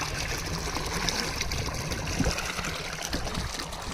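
Water runs steadily through a farm irrigation channel in a field, a continuous close trickling and gurgling flow with no voices over it.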